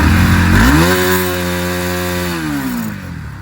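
Bajaj Pulsar AS200/NS200 motorcycle engine revs hard from idle up toward redline near 11,000 rpm, a loud rising harmonic whine that holds high for a couple of seconds before easing back down, with no talk over it.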